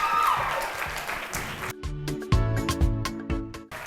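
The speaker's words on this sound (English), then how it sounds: "A big round of applause for our ladies" Applause for the women contestants at a school cookery and arts competition final, dense clapping for the first second and a half, then breaking into scattered louder claps with tonal music or voices underneath.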